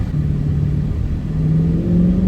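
Hemi V8 of a 2023 Dodge Challenger R/T Scat Pack Widebody, a deep loud rumble whose pitch climbs as the engine revs up steadily over a couple of seconds, heard close with no talking.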